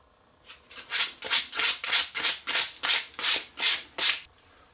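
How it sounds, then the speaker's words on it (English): Steady back-and-forth hand sanding on wooden Tower of Brahma puzzle pieces, about ten even rasping strokes in a regular rhythm, close and fairly loud with no talking. "I'm just going to sand them by hand."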